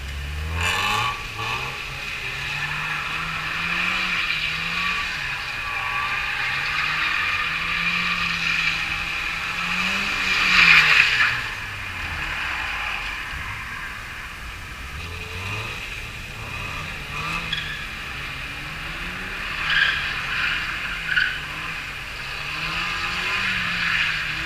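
A cheap Mazda MX5 drifting at a track event, its engine note rising and falling in repeated swoops as it slides through corners, with bursts of hissing tire squeal, heard from a distance and steady with no talk.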